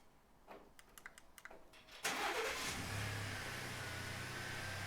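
A Ford Expedition starting by remote key fob: a few faint clicks, then the engine cranks and catches with a loud burst, settling into a steady idle heard from nearby.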